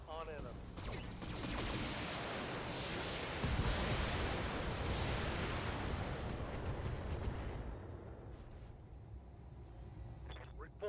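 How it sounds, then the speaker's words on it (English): Heavy mech weapons fire and explosions roar continuously in a BattleTech multiplayer battle, a dense loud wash of blasts with a stronger burst partway through, and voices speaking over the combat. "Firing full complement on enemy."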